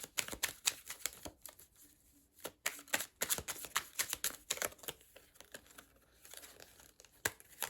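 Tarot cards being shuffled, a quick run of crisp riffling and flicking bursts in irregular clusters, fairly close and quiet, with no talking.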